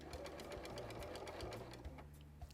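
Faint sewing machine setting in a garment sleeve, a quick even chatter of stitches running steadily throughout, close but quiet.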